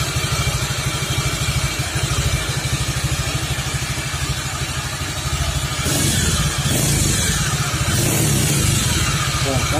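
A Suzuki Nex FI scooter engine revs loudly and steadily, with a rougher, harsher burst in the second half suggesting the worn gearbox, running continuously close to the listener.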